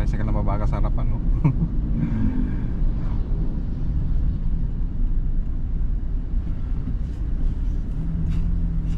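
A motorized tricycle's engine rumbles on the road ahead along Naguilian Road, a steady low drone that persists throughout with voices talking over it.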